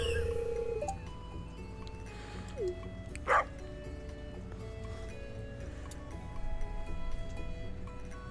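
A dog yips once with a brief bark amid a quiet room during a live stream, faint whines and an electronic tone in the background, no clear speech.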